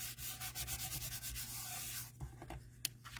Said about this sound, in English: I'm actually going to open it up and burnish the inside.